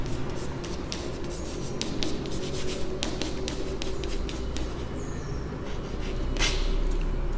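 Writing on a board during a maths lesson on polynomials: a run of soft, scratchy strokes and light taps comes in uneven bursts, fairly quiet, with a steady background hum and no speech.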